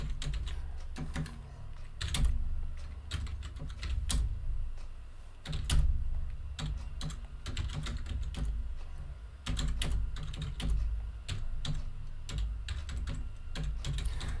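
Steady typing on a computer keyboard, a continuous close patter of key clicks with occasional heavier keystrokes, heard alone.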